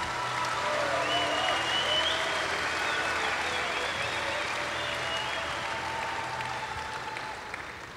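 Sustained applause from an audience at a dairy cattle show honoring the year's champions, a dense steady wash of clapping that holds loud throughout and tapers slightly at the end.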